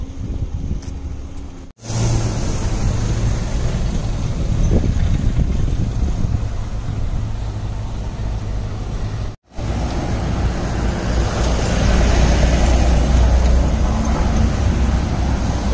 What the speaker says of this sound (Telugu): ఇక్కడ ఘాటీ సెక్షన్స్లో కార్లు వస్తాయి, కానీ లారీస్ అయితే మాత్రం బాగా ఎక్కువ